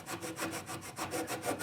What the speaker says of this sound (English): I probably should use a bigger saw, really.